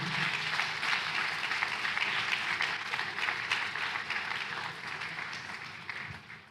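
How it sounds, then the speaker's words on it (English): An audience at a literary festival session applauds warmly, sustained dense clapping that slowly fades toward the end. "A round of applause for him."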